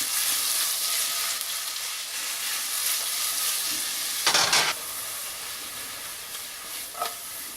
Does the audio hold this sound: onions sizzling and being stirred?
yes